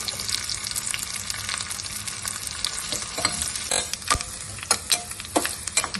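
Small shallots, a dried red chili and curry leaves sauté in hot oil in a pan for kadala curry, a loud continuous sizzle with sharp spatula scrapes and clicks picking up toward the end.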